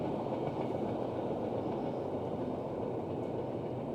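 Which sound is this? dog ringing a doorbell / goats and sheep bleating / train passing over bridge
train passing over bridge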